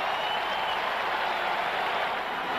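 A capacity stadium crowd at a 1989 NFL game between the Washington Redskins and Dallas Cowboys roars steadily, a dense, sustained wall of cheering that holds at an even level from start to finish.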